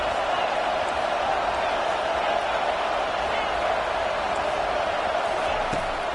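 A college football stadium crowd roars to help the defense pin the opponent deep in their own end, a dense, steady wall of cheering and noise that holds at the same loud level throughout.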